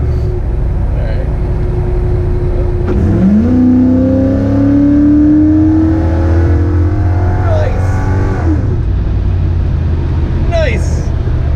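A repaired truck engine runs loud and steady, then revs up with a rising whine around the midpoint and settles back, close by, with someone talking over it.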